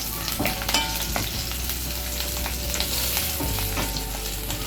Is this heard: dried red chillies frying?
yes